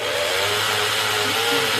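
A power drill bores slowly into metal during a trailer repair, giving a continuous close whine with steady grinding texture that holds throughout without a break.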